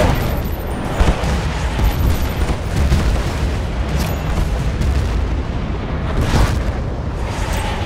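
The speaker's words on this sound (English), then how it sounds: "Shells inbound." Artillery shells bursting in the video game Battlefield Bad Company 2, a dense, continuous rumble of heavy booms and blasts that stays loud throughout, with sharper impacts rising out of the roar.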